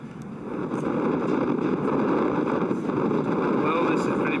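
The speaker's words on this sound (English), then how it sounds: "The wind is blowing a gale. It probably sounds like a tornado to you." Strong gale buffeting the open rooftop of Montparnasse Tower in Paris, a steady loud roaring rush of wind over the microphone that holds for the whole stretch, with no break.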